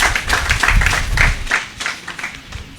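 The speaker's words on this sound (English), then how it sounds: "A round of applause for the discussants." Listeners at a national dialogue on preventing violent extremism in Nalerigu, Ghana clap for the discussants, a loose, uneven burst of individual claps with some low rumble, fading toward the end.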